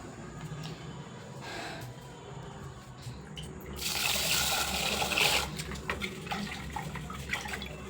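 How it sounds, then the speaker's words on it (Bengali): Rice being rinsed under running kitchen tap water, a steady faint trickle with a louder gushing, swishing burst in the middle before settling back to a soft flow; no talking. "তো চলো এখন যাবো চালটাকে ধুয়ে ভাতটা বসিয়ে দেবো"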